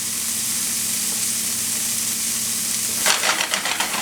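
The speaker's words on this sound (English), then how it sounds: "Fry off your ingredients, give them a toss." Frittata ingredients frying in a hot pan, a continuous loud sizzle that suddenly swells into a crackling burst of spitting and scraping as the food is tossed near the end.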